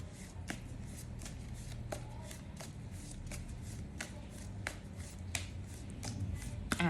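Tarot cards are shuffled by hand in a steady run of crisp riffling and flicking strokes, close and fairly quiet, with no voice over them.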